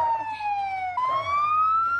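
Ambulance siren in the BeamNG.drive driving game, a steady wailing tone that slowly falls then rises again, loud and close over a low engine rumble with no talk.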